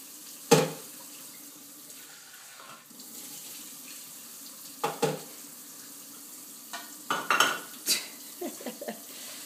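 Dishes being washed at a kitchen sink under a running tap, with short bursts of water and clinking of plates, pots and cutlery against quiet room tone, a few separate clatters near the end.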